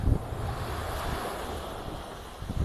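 Sea waves wash onto the beach at Bangsaen in the early morning, a continuous roar of surf mixed with wind buffeting the microphone.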